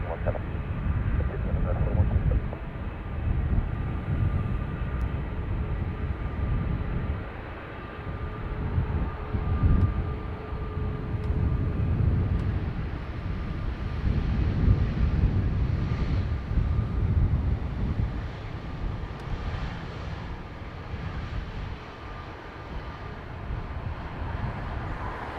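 An Airbus A350-1000 arriving on Dublin Airport's north runway makes a broad, sustained roar and rumble that rises and eases over the whole stretch, with voices talking intermittently over it.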